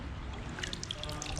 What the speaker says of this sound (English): If there was such a thing as a perfect creek, this is it.